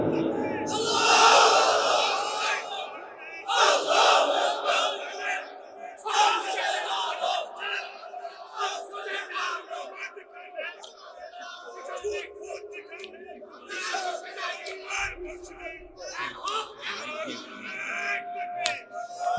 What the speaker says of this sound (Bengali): মুসলমান দাও এরকম একটা তাকবীর